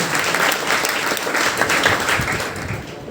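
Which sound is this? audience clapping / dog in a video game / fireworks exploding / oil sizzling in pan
audience clapping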